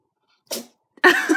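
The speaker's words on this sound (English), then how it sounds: "You sneeze like a kitten." Two quick, small sneezes from a kitten close to the mic, a brief first burst followed half a second later by a sharper, slightly longer one.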